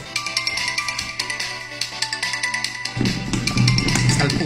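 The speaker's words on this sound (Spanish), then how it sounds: "Cuando le suena el teléfono a la profesora" A teacher's mobile phone rings in a classroom with a repeating musical ringtone, moderately loud and steady, rising in bass and fullness toward the end.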